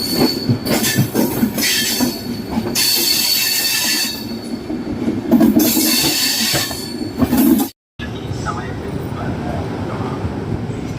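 A Doon Express train rolls into Lucknow Junction, its wheels rumbling and squealing loudly and close by over the rail joints, with a dog barking and voices talking in the background.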